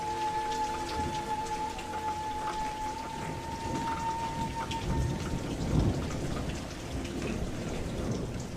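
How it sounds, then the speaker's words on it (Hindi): Steady, heavy rainfall in a cartoon fills the scene, with a dense wash of drops and low rumbles of thunder rolling underneath throughout. "पता नहीं बारिश कब रुके।"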